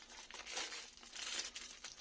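Crinkling and tearing of the wrapper as a wrapped cheese from a Somerset cheese box is unwrapped, close and fairly quiet, in two swelling bursts of rustle over about two seconds.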